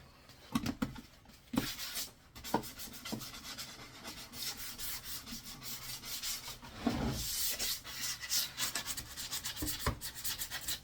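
Sandpaper rubs over wood while a house sparrow nest box is being built, giving repeated rasping strokes in an uneven rhythm, close and fairly loud, with no talk.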